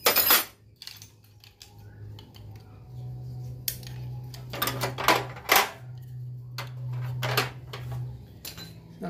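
Metal open-end wrenches set down into a toolbox, giving scattered clinks and clatters of steel on steel at close range, with a low steady hum underneath.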